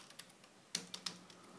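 A few crisp keystrokes on a computer keyboard as a feature name is typed in a quiet room, with irregular taps and one sharper key press.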